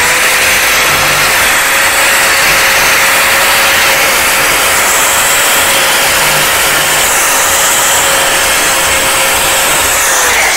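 A power drill re-drilling a hole in a wooden furniture frame during chair upholstery work, a steady high-pitched motor whine held loud and unbroken throughout, with a constant tone and no speech.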